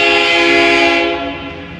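A freight train led by locomotive CA8226 passes a platform at Rhodes and sounds a loud, close, sustained horn chord that eases off slightly toward the end.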